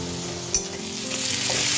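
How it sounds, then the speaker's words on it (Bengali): Bay leaf and chopped onion sizzling in hot oil in a karai, a continuous close crackle with a brief clatter of stirring, no voices. "এবার কড়ার মধ্যে তেজপাতা দিলাম আর কুচি করে রাখা পেঁয়াজটা দিয়ে দিলাম।"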